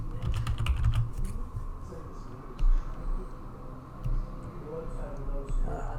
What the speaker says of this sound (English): I'm just going to type in a window.